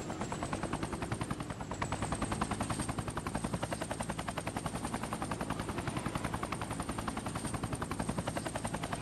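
Choppa helicopter glider from Fortnite, fitted with guns on its sides, makes a steady rapid rotor thumping that runs loud and unbroken throughout, with a whining engine tone above it.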